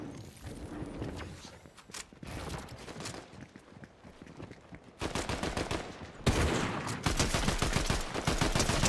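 Rapid automatic fire from the Warforged Assault Rifle in Fortnite, a dense, loud stream of gunshots in sustained bursts with brief pauses, continuous through the whole stretch.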